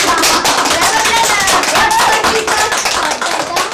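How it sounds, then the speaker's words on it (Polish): Children at a theatre workshop clap together, a dense rapid patter of hands with some voices mixed in, loud and continuous throughout. "To brawa dla was! Brawa!"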